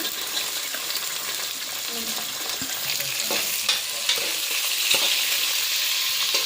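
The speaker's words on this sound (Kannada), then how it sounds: "ಈರುಳ್ಳಿ ಸ್ವಲ್ಪ ಫ್ರೈ ಮಾಡ್ಕೊಬೇಕು." Chopped onions fry in a pan for a Sunday chicken biryani, a steady close sizzle with occasional stirring scrapes and clicks running throughout, no voice over it.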